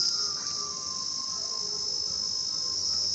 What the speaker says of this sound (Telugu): చెట్ల మధ్య వెళ్ళినప్పుడు ఈ ఈగలు ఇలాగే అరుస్తూ ఉంటాయండి